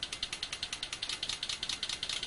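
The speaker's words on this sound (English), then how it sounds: "So this is what it would sound like if it was idling." Simulated water fuel injector for a car engine at idle, giving a steady train of sharp, evenly spaced clicking pulses, roughly eight per second, close and mechanical with no talking.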